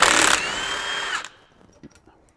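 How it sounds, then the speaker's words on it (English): Power tool backing out driveshaft fasteners on a Jeep Gladiator, one loud close whirring burst of about a second that winds down, followed by faint clinks and quiet. "we're just going to come through here and back these fasteners out"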